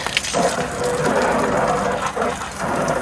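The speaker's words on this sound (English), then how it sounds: "So we'll turn on the water from here" Tap water gushes out on a rooftop in Oman, a steady, loud, close rush of running water with a faint rattling undertone, continuous throughout, no voices.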